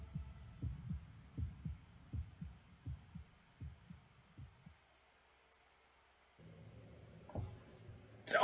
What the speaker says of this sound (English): Why am I hearing a heartbeat?